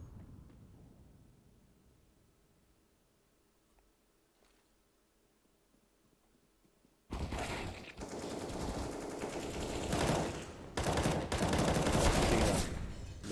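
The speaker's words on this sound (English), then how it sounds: "Peeked out a little bit fast and started shooting" Quiet low rumble, then a sudden loud burst of rapid gunfire in a Counter-Strike style tactical shooter match, continuing in dense, sustained volleys with brief dips.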